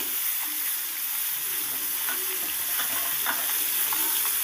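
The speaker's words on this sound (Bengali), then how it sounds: "দুটো পিঠকেই সুন্দর করে একটু ভেজে নেব যেন ভেতরে কাঁচাটা না থাকে" Pieces of hilsa fish frying in hot oil in a pan give a steady, close, dense sizzle with crackling spatter throughout and no voices.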